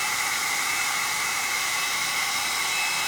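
A hair dryer runs steadily during a blowout, a loud, even whooshing roar of blown air with a constant motor whine, no talk.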